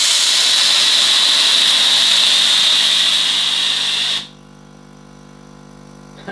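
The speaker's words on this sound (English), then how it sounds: "So if I want steam, you just squeeze the trigger." A Tefal Pro Express Protect GV9230 high-pressure steam generator iron blasts a loud, continuous hiss of steam for about four seconds, then cuts off abruptly, leaving a quiet hum.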